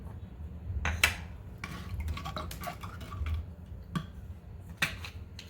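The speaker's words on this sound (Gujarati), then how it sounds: "આ જે કેસરવાળું દૂધ છે એ પણ આપણે તેમાં મિક્સ કરી લઈશું" Saffron milk being stirred into thandai in a vessel: a spoon clinks and scrapes against the metal side in irregular taps over a low background hum, close and fairly quiet, no talking.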